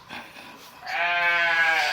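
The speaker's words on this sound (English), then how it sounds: "Those are the sheep crying." Sheep bleating in a long, wavering cry that rises to full loudness after a brief quieter lead-in, close and clear with no talk over it.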